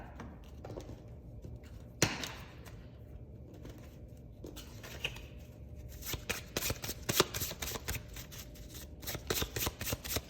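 Tarot cards are pulled and handled on a slippery counter, making soft scattered slides and taps at first, then denser, rapid riffling shuffles close by.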